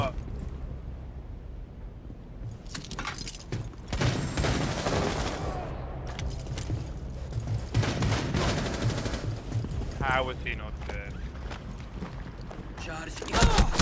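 Gunfire rattles in a Rainbow Six Siege ranked match, with loud bursts and sustained volleys that start and stop across the stretch and blend with other game noise.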